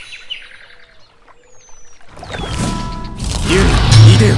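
A bird-summoning skill effect from the video game Onmyoji, with faint chirps and whistles that build into a loud swirling flutter and whoosh of game effects over the last two seconds.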